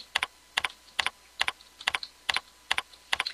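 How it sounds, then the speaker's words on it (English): Keys clack on a computer keyboard in a steady, even rhythm of paired taps, close and clear, with no talking. "I'm going to start typing"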